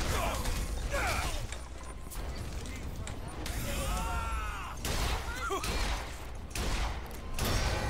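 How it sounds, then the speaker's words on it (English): A hand cannon fires in the BioShock Infinite shooter amid a busy, cluttered mix of combat noise, mechanical clanks and metallic ringing, with heavy reports breaking through a continuous din. "George Washington definitely doesn't like the hand cannon."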